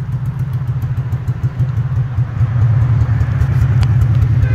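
A Lincoln Continental's 32-valve V8 engine with open exhaust rumbles and revs loudly with a deep, pulsing exhaust burble, building slightly in intensity toward the end.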